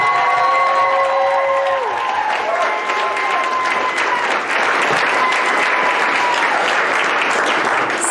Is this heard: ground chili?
no